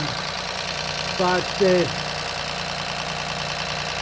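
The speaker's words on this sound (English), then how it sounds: "as you can hear and see that the engine is running" A Ford Fiesta Mk6 1.0 EcoBoost three-cylinder engine with a low oil pressure warning idles in a steady, even hum, while someone speaks briefly over it.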